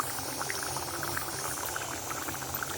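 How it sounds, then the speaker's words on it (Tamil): A pot of ghee-fish (dried fish) curry bubbles at a full boil, giving a continuous close-up burble of popping bubbles with a faint rattle. "குழம்பு சுண்டை கொதிக்க ஆரம்பிச்சிருச்சுது."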